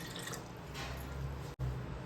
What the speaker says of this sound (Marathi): इडलीसाठी कुकर गरम व्हायला ठेवूयात आणि त्यामध्ये पाणी टाकून घेऊयात